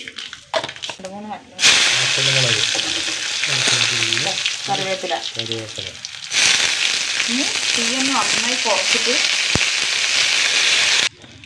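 Mustard seeds crackle and sizzle in hot sesame oil as a steady loud frying hiss, broken by a short quiet gap; someone talks over it throughout.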